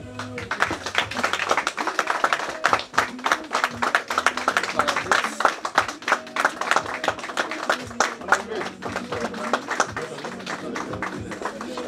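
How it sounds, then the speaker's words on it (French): An audience claps steadily as someone makes an entrance at an event, a dense, sharp rhythm of many hands lasting throughout, with voices talking faintly underneath. "On applaudit."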